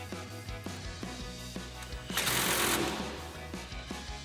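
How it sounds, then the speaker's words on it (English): A ratchet with a 14mm socket tightens a bolt during a Toyota Tacoma suspension lift install, giving a series of evenly spaced clicks with a short, louder burst of rushing mechanical noise partway through. "Then you're going to take a 14mm socket and a ratchet,"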